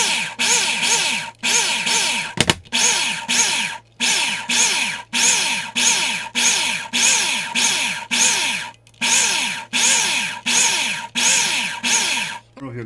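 An electric spice grinder pulses through dry rub spices in about a dozen short whirring bursts, each rising and falling, separated by brief silences, loud and close.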